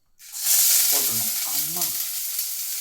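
Chopped onion hitting hot oil in a pan for egg rice, a sudden loud sizzle bursting in after a short silence and staying strong, with a few soft stirring scrapes.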